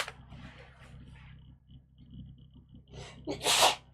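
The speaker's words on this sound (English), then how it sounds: "And now I feel like I'm going to sneeze." A single loud, sharp sneeze bursts out near the end after a few seconds of quiet breathing and faint movement, very close.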